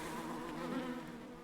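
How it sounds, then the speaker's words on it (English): Bees at a beehive in the video game Book of Hours drone in a steady, dense buzz that stays close and even throughout, with no talk over it. "Beehive."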